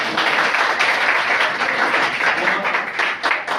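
An audience gives sustained clapping for a guest at a 5 km marathon event held on a Sunday morning, dense and fairly loud, continuing without pause across the moment.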